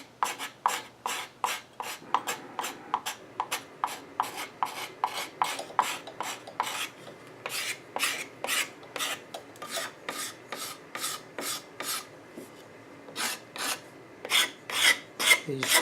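A hand file rasps rhythmically over wood while furniture legs are shaped. The close, evenly spaced rubbing strokes repeat steadily with a short pause near the end, and no one speaks.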